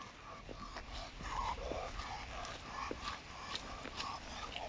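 An excited Labrador wheezes and rasps from a strained throat, repeated short harsh breaths and faint whimpers in an uneven rhythm, close but fairly quiet over background noise.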